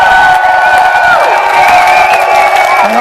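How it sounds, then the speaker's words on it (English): A crowd at a Canada Day protest in Ottawa cheers and whoops loudly and steadily for a man named Norman, voices blending into a sustained roar with scattered shouts. "Yeah, cheer for Norman."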